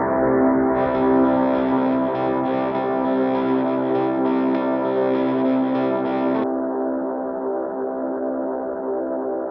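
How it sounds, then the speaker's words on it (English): A Rhodes electric piano sample runs through a Lekato mini looper with effects such as reverse reverb, giving a lush, sustained chordal soundscape. The layered texture is thick and distorted with echo, then thins to a softer tone near the end, with no voices. "Just with a simple like Rhodes sample, we created these lush soundscapes with some other effects after it."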